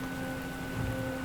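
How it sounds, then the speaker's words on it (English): Steady rain falling in the wartime strategy game Panzer Corps 2, a soft, even hiss over a faint tonal game hum, with no voices. "we have no means to determine that because it's raining"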